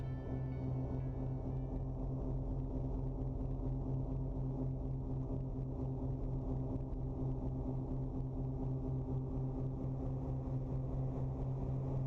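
Twin engines of a Beechcraft Baron plane drone steadily and loudly during the takeoff roll, a constant, dense tonal roar heard from inside the cabin without any letup.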